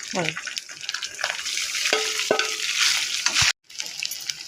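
Cooked rice is mixed with curry leaves by hand in a pan or bowl, giving soft, close stirring and squishing sounds with a few sharp clicks, broken by a short silence near the end.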